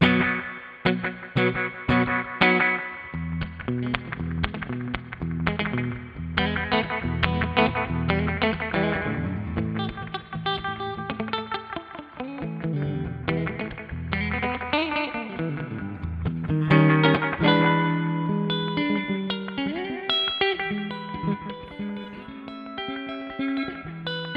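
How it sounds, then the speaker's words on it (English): An electric guitar plays a twangy, picked phrase through a delay pedal's bright rockabilly-style echo, each note repeating and trailing off behind it; no voices. "Just a really nice kind of classic echo sound."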